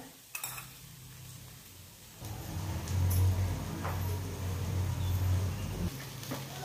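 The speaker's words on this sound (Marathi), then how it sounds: "मीठ व साखर घातल्यावर व्यवस्थित ढवळून घ्यायचं आहे" A spoon scrapes and clinks in a pot while boiled potato bhaji is stirred with salt and sugar. A soft sizzle rises partway through, and the stirring goes on close by with no talk.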